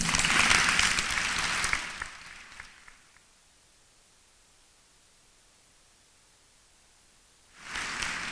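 Gala audience applauding, a dense burst of clapping that fades over about three seconds into near silence, then another round starts abruptly near the end.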